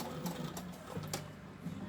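Sewing machine stitching along the seam of a fabric scrunchie with elastic inside, a steady close hum that runs in short bursts of stitching separated by brief pauses.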